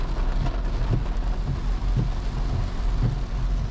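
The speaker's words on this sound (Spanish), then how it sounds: "Pues llevamos 3 días de intensa lluvia por la tarde-noche." Heavy tropical rain pours steadily outdoors during an evening storm near Tulum, with low rumbles of thunder rolling underneath in a continuous, close wash of noise.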